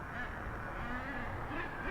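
Ducks and geese quacking and honking in a small bird reserve in the middle of a city, a steady outdoor chorus of calls over continuous background noise with no talking.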